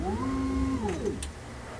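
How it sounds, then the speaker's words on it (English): Stepper motors of a 3D printer installed in an overland truck whine as the print head lifts and the gantry moves, rising and falling tones sliding in steps, close and clear, followed by a couple of soft clicks. "Moves the print head up so it can clear the block."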